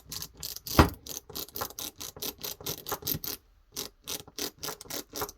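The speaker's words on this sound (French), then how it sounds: "Jeu de poignet et hop le cliquet il tourne" A Facom ratchet wrench turned with a wrist flick in a workshop, giving a fast, steady run of close, crisp clicks that stops briefly, then starts again.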